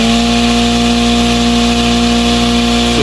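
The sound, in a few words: electric farming shredder running after switching on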